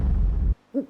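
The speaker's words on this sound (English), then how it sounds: "owl" A single owl hoot sounds briefly and clearly after a short pause, following a fading low rumble of forest ambience.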